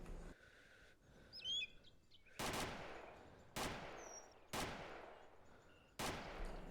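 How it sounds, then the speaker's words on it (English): Bursts of gunfire from the ArmA 2 DayZ mod, four loud sharp volleys spaced about a second apart, with faint bird chirps in the background between shots. "he seems to be firing, but I don't know what at"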